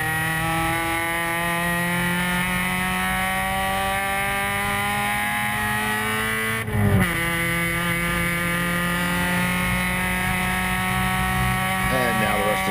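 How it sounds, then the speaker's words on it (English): Race cars cross the finish line with a loud, sustained engine whine, the pitch holding steady and then shifting as cars pass, with a brief burst of noise near the middle. "Cars starting to come across the finish line."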